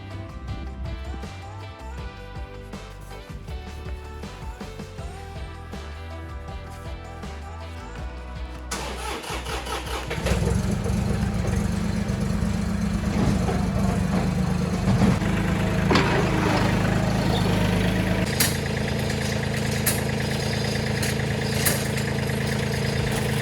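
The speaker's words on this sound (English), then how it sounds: "Mike is gonna do a bunch of stuff with the tractor, get all the rest of this dirt out, move some snow" A farm tractor on a homestead turns over and settles into a steady running rumble, loud and close, its engine noise getting heavier partway through as it works near dirt and snow.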